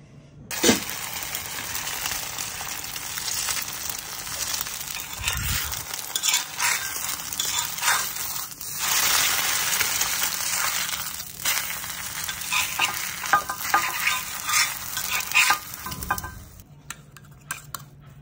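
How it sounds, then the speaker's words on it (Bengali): An egg fries in a pan in a home kitchen, a loud steady sizzle and crackle with occasional scraping and clinks of a utensil against the pan, no one speaking. "এখন ডিম পোচ করবো।"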